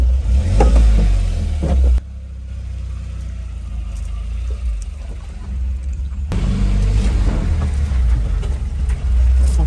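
Car driving along a road with its engine rising as it accelerates, loud and close, with a quieter coasting stretch in the middle before the engine noise swells again; no talk.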